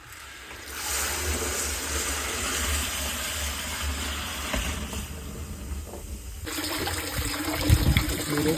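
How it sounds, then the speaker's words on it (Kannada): Water trickles and splashes steadily from a drip irrigation line in a banana farm, a continuous close flow with a brief quieter stretch and a few louder bursts near the end. "ಇದು ಕೂಡ ಇಲ್ಲಿ ನೀರು ಬೀಳ್ತಾ ಇದೆ"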